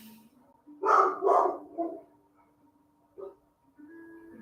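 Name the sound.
dog barking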